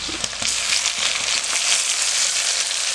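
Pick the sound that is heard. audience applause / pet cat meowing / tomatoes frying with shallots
tomatoes frying with shallots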